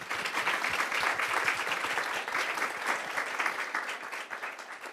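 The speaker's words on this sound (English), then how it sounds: "Can I have a round of applause in welcoming our panelists?" An audience at a food waste panel event applauds steadily and densely throughout to welcome panelists, with many hands clapping at moderate distance and no voices over it.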